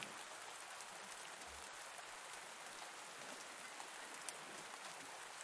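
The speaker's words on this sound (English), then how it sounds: "It's raining today though, that's a blessing." Steady rain in the farming video game Pumpkin Days, a constant hiss of drops falling on surfaces with scattered small droplet ticks, even and unbroken throughout with no voices.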